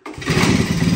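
Small single-cylinder engine of a 1985 Honda ATC 110 three-wheeler running after revival, a steady close buzzing idle that catches after a brief start and holds loud with a throbbing rhythm.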